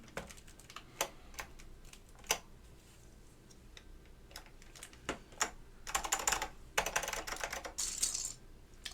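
Typing on an Omnikey Ultra keyboard with Alps SKCM White switches: sharp individual clicky keystrokes at first, then quicker clustered bursts of presses, close and fairly quiet with no talking.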